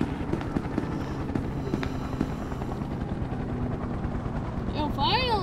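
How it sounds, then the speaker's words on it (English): Rapid chopping of a helicopter rotor in SCP: Secret Laboratory under dense, busy game noise with scattered sharp bangs, ending in warbling electronic tones. "Yo, helicopter! Reinforcements!"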